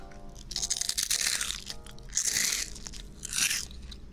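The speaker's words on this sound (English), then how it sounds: "They have such a good crunch." Crisp, loud crunches from biting into shrimp chips, close up to the microphone, arriving in three or four bursts with brief pauses of chewing between them.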